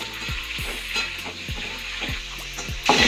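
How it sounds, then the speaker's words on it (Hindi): Peeled, washed carrots sizzle steadily in ghee in a kadai for carrot halwa, a continuous crackling fry broken by regular clinks and scrapes of stirring, close and alone. "कढ़ाई में हमने जो गाजर को छिलकर और धोकर रखा हुआ है इसे हम कढ़ाई में डाल देते हैं।"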